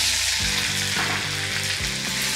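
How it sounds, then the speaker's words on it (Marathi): Finely chopped onion frying in hot oil left over from frying sandge, a loud, dense sizzle crackling steadily and close up, with a faint rhythmic stirring or scraping beneath it and no talking. "याच तेलामध्ये आता घालूयात बारीक चिरलेला कांदा"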